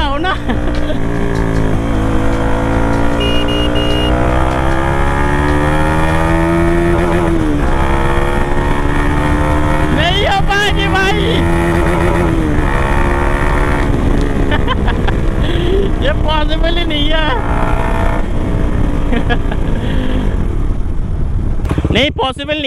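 A 155 cc Yamaha R15 and a Bajaj Dominar 400 drag race, their engines droning loudly and steadily with repeated rising and falling revs, while voices talk over the noise throughout.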